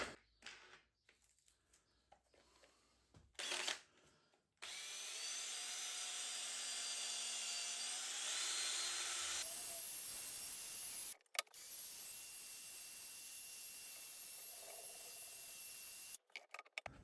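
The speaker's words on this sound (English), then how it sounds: "I'm going to swap out to the buffing wheel." A cheap drill fitted with a buffing wheel spins in steady, hissing whirring stretches, stopping and starting between runs and fairly faint overall.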